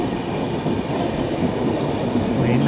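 Kerala Express passenger train rolling into Nellore station, a steady loud rumble of wheels and carriages with a faint high squeal near the end and no talking.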